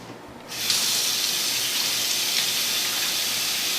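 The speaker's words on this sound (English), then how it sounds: "I don't want to rinse too much of it out, just enough to get the mean hunks of grain out of there." Kitchen sink tap turns on and runs steadily at full force over steeped brewing grain being rinsed, a loud close rushing of water that starts after a brief quieter moment and continues unbroken.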